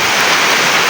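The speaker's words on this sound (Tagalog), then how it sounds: "At ayan na nga, umulan na. Ang lakas." Heavy rain pouring down outdoors, a dense, loud, continuous wash of noise with no pauses through the short stretch.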